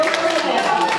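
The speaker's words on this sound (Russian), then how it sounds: "аплодисменты, столик номер два." Guests at a wedding history quiz applauding table number two: brief, close clapping from a small group indoors, mixed with some voices.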